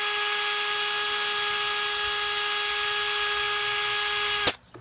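A power drill whines steadily at high speed while polishing a Honda Civic headlight during a 3M restoration, loud and continuous, then cuts off abruptly near the end.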